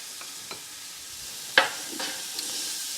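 Onions stewing on a Blackstone griddle, a continuous quiet sizzle broken by a few scraping spatula strokes, one sharp metallic clack in the middle, with no talking.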